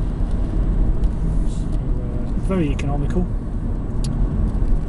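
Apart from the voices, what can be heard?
Renault Megane Estate 1.5 diesel engine at 40 mph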